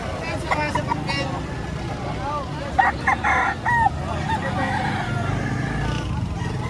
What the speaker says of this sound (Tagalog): Magandang manok ito, yan.